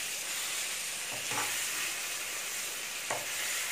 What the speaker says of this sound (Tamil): இதை நம்ம இப்போது பெரட்டி போட்டு கிளறி விட்டு அப்பப்போ இந்த மாதிரி பெரட்டி விட்டு நல்லா வேக வச்சு எடுத்துக்கணும்